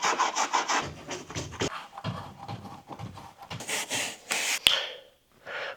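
Holds at a climbing gym being scrubbed with a bristle brush, a series of close, rough back-and-forth rasping strokes in uneven bursts, broken by short pauses and a brief sharp knock near the end.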